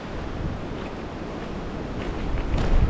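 Strong, steady wind roars in a broad, continuous rush outdoors on a snowy winter morning, growing a little louder and gustier toward the end, with no talking.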